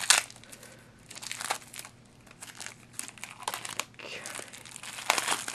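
Packaging of a Magic The Gathering intro pack crinkles and tears in bursts of plastic and paper rustling, close and fairly quiet, while a person speaks briefly.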